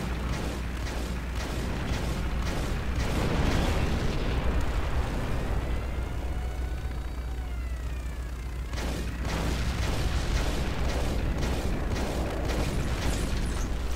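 A zeppelin blown up during an aerial battle in Crimson Skies: rolling explosions and booming blasts over a constant engine drone, with a whining mechanical sweep in the middle and fresh bursts afterward.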